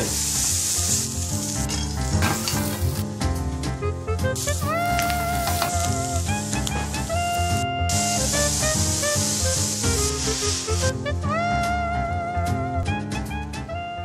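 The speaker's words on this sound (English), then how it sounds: "Throw in all the pre-cut veggies and fry away." Pre-cut vegetables for japchae fry in a pan with a steady sizzle and hiss, set under prominent, continuous background music with melodic notes.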